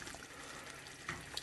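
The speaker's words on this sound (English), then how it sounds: "Pour this in right here so you can see right in." Homemade everyday pasta sauce in a pot as a secret sauce is poured in, a short liquid trickle and splash heard up close over steady kitchen background noise.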